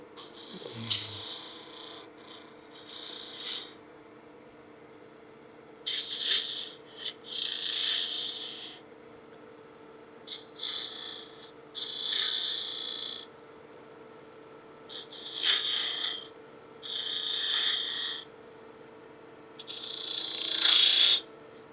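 A turning tool cuts straight sections of wood between beads and coves on a spinning lathe, five or six scraping bursts of a few seconds each, separated by pauses with a steady motor hum underneath.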